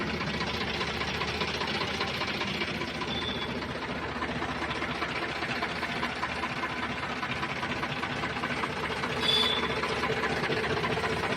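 A used tractor in good running condition idles, its engine putting out a steady, fast knocking chug at constant strength, close by, with a brief louder rattle near the end.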